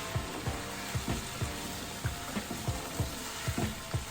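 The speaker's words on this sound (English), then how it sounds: "we're gonna let it simmer until the zucchinis are soft" Zucchini simmers in a pan for shrimp pasta, a quiet, steady sizzle and bubbling with regular soft pops throughout, heard up close and with no voices.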